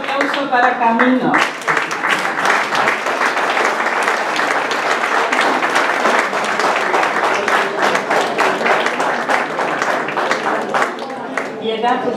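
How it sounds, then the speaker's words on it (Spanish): Sustained audience applause at a poetry evening, dense clapping from a crowd filling the room for about ten seconds, with a voice speaking briefly at the start and end. "Otro aplauso para Camino."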